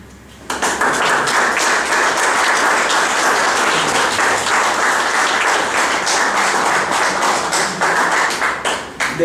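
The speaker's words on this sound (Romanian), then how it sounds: "Eu o aplaud pe mine." Applause breaks out suddenly at an art exhibition opening in a gallery, many hands clapping loudly and unevenly with some sharp individual claps standing out, sustained for several seconds before starting to thin at the end.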